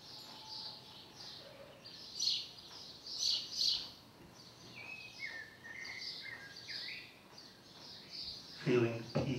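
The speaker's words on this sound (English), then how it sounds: "Listening to the sounds of the birds" Birds chirp and trill in short, scattered bursts at moderate distance in Ajijic, with quiet pauses between calls and a faint insect hum underneath.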